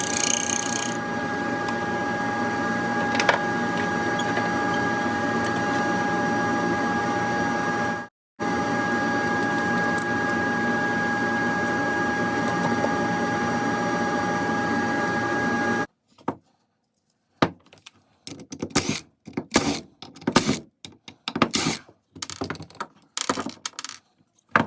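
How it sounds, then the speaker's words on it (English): Skew chisel making a back cut on a black walnut live-edge bowl turning on a lathe, a steady continuous scraping whir for about fifteen seconds with a brief break, then dropping to scattered short bursts. "I'm going to change over to a skew so I can do a back cut on that cleat"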